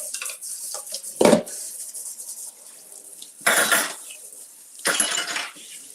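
A dish is rinsed at a kitchen sink in three separate bursts of running, splashing water, with light clinks of dishware between them and no talking.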